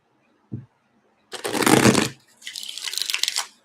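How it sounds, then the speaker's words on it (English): A deck of playing cards is shuffled in two quick riffling bursts, crisp papery flutters close up after a small tap, with no talking. "Shuffle these up again really good."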